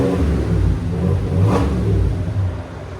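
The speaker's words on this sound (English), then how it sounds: "He's barely revving it." GMC Yukon AT4 with a 5.3 engine and straight pipe exhaust revving, a deep loud rumbling rise and fall peaking midway, close and alone.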